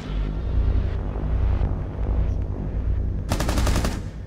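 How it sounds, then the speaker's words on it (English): Rapid automatic gunfire from a Rainbow Six Siege match, a loud continuous burst near the start and a sharp rattling volley of closely spaced shots toward the end. "just shot through my Blackbeard shield"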